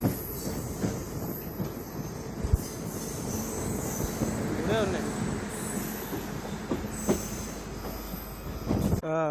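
A MEMU passenger train on the Machilipatnam–Vijayawada line rolls along rails with steady rumbling, metallic squeals and brief clacks, faint voices mixed into the noise.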